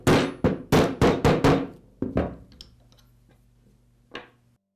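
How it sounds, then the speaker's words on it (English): Mallet strikes driving a bearing into place through a socket on a DeWalt angle grinder shaft: five sharp, close knocks in quick succession, a pause, then a couple of softer taps and one final tap. "use a mallet to tap the bearing in place"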